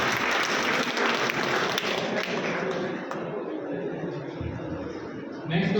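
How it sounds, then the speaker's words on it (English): Audience at a nursing college breastfeeding quiz competition bursts into sustained applause, a dense wash of clapping lasting several seconds before thinning out, with some voices and murmurs mixed in. "Clap for this guy."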